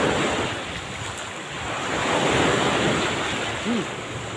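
Ocean surf rolls and swells while wind buffets the microphone, a broad continuous roar that builds to a peak midway and eases off.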